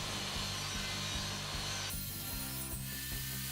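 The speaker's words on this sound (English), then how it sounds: "The next thing I did was cut a box out of the scrap MDF I had lying around from the last" Scrap MDF board being sawn into a box, a steady run of close, rhythmic rasping strokes that shift in tone partway through, with no talking.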